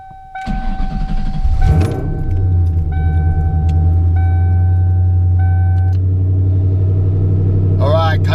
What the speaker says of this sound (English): Coyote cold start for the win.